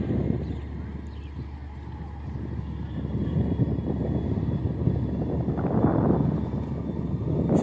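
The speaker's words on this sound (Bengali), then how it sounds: "এমভি এয়ার খান লঞ্চটা এখন ঢাকার উদ্দেশ্যে ছেড়ে যাচ্ছে।" The passenger launch MV A R Khan, carrying several hundred people, pulls away from Patuakhali ghat bound for Dhaka. Its engine gives a steady, loud, low droning rumble with wind noise that swells slightly as it departs.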